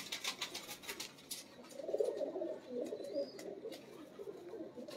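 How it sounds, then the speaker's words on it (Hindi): Pigeons coo softly and steadily in a loft, with low murmuring calls rolling on through the whole stretch, faint and near, over light rustling and a few small clicks. "ये बड़े सियाने कबूतर होते हैं"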